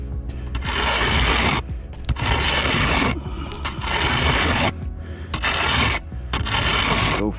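Hand scrubbing of a roof surface during a roof cleaning job, heard as loud, steady rasping strokes in repeated bursts separated by short pauses.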